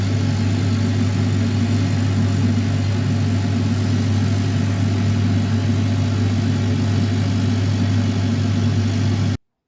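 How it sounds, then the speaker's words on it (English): A laser cutter cutting out parts, its steady machine hum and low drone running continuously and fairly loud, then stopping abruptly at the end. "The machine tells you on the screen the progress of the laser cutter."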